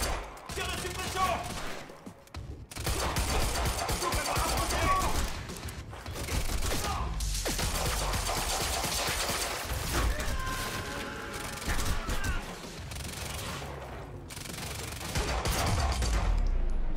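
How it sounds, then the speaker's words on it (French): Dense suppressive gunfire in the video game Quantum Break: loud, continuous bursts of automatic weapons and rapid shots for the whole stretch, with brief lulls and crashing impacts mixed in. "Allez, ça défouraille tout là, je vous le dis."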